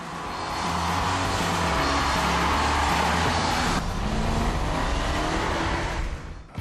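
A BMW engine accelerates hard, a loud, steady, close roar that climbs in pitch and holds before dropping away near the end.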